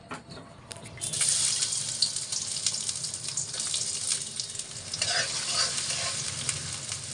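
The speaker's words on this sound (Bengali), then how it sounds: "এখন আমি রান্না বসিয়ে দেব, তাই সবার প্রথমে আমি এখন পেঁয়াজের বেরেস্তাটা করে নেব।" Chopped onions hiss and sizzle loudly in hot oil, frying into crispy beresta, with a steady bright crackle broken by occasional stirring scrapes and no voices.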